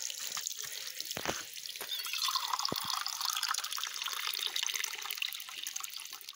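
Spring water rising from the ground on a rural property runs in a soft, steady trickle with a few drips, quiet and close, with no one talking.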